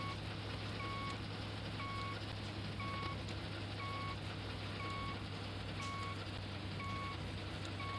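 Tractor in the Professional Farmer 2014 video game: a steady low engine drone under evenly spaced reversing beeps repeating about every half second.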